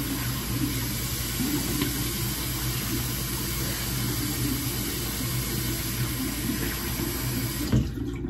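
Hot tap water runs steadily into a sink, a constant close splashing rush with no pauses, ending in a brief clunk near the end.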